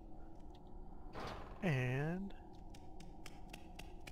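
A door opens in the stealth video game Mark of the Ninja with a single falling, whooshing tone lasting about half a second. It is preceded by a short rustle and sits over steady game ambience and faint ticking, with a brief spoken word just before.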